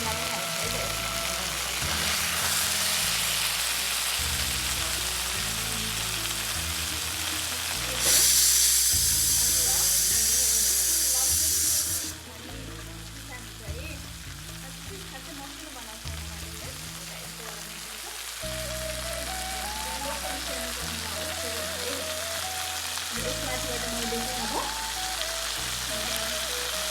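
Garlic, ginger and chili paste frying in a pan for mutton, a constant close sizzle with a louder hissing surge partway through, under background music-like tones.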